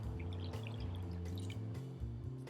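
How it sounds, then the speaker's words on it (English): Water pours steadily into a well of flour for bao bun dough, a continuous soft trickling over a low background hum, with no talking. "we're going to start off by pouring in our water"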